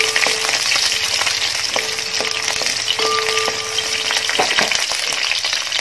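Finely chopped shallots sauté in a pan, giving a constant close sizzle with intermittent metallic scrapes and taps from the stirring utensil.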